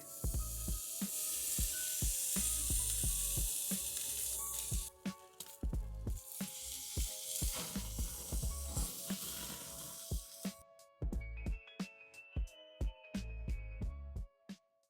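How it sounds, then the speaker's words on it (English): British Wagyu charcoal steak sizzling and hissing over open fire, a steady loud crackling fry for about ten seconds, then sharp popping crackles and snaps of burning embers with quieter gaps. "Now I will stay quiet and I will let you enjoy the grilling."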